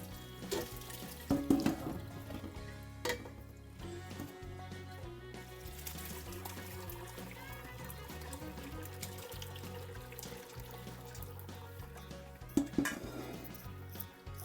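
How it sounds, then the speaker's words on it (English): Running water from a tap splashes and rinses inside a pot during cleanup after making muscadine juice, a steady low wash with louder clanks and sloshes near the start and end. "now I'm going to clean this pot out"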